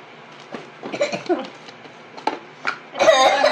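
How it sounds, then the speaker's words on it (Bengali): A person coughs repeatedly at close range while handling chillies in a kitchen, with short harsh bursts spread across the moment and a louder cough fit at the end. "মরিচের কাজ করবো আর কাশি আসবে না, এটা কি হয়?"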